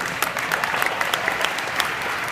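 An audience applauds at a speaking event, a steady patter of many hands clapping, fairly even and moderately close, lasting the whole moment.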